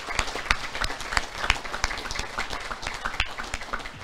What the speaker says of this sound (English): So I'd like to have everyone give Jerry and Clara Pat a round of applause.